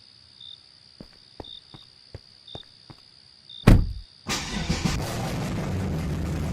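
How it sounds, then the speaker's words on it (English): A teenager's beat-up car with the muffler hacksawed off and a performance exhaust fired up for a loud cold start, bursting into a harsh roaring idle after a few faint clicks and footsteps in a quiet night. "You chopped the muffler off your car with a hacksaw, upgraded to a performance exhaust, and now your car wakes up half the neighborhood"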